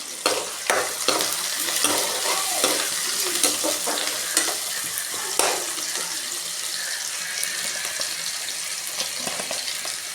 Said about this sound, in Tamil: ஒரு 10 செகண்டு தக்காளி லைட்டாக வதக்கட்டும்.